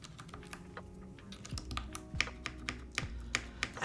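Clacky keystrokes on a mechanical keyboard fitted with Milan keycaps on an all-black board, a close, uneven run of sharp clicks that quickens toward the end.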